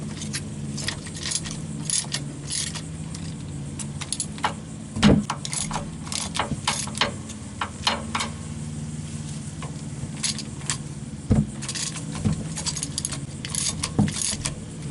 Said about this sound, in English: Going to go ahead and start breaking all these bolts loose.